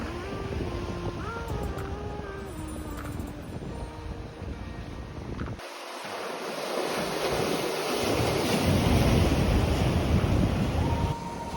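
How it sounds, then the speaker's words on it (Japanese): Ocean waves crash against tetrapod breakwaters along the Odawara coast, a loud continuous surge and roar with wind buffeting the microphone, the wash swelling heavier in the second half. "テトラポットに打ち付けられる波は迫力があって好きです。"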